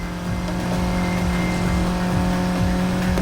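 A car in the racing game Need for Speed Heat drives toward downtown, its engine a loud, steady drone with tire noise, no voices over it.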